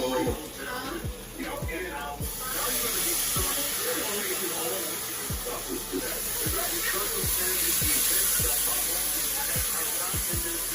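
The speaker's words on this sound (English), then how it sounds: "Listen to that sizzle." Steady broadband hiss of pork belly sizzling on a hot griddle for Korean BBQ, intensifying after a couple of seconds, with scattered clicks and taps throughout.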